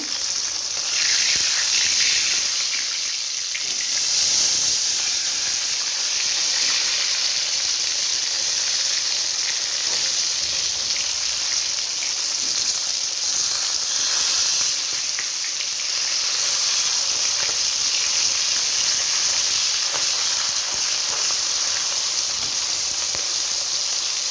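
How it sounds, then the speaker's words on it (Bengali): Steady, loud sizzling of fish frying in hot oil, a continuous hiss and crackle with no talking. "এবার আমি মাছগুলো দিয়ে দেব এক এক করে"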